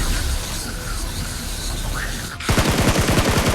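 Gunfire in PUBG Mobile, a quiet hissy stretch that turns into a rapid, loud burst of automatic shots, about a dozen evenly spaced cracks close to the listener.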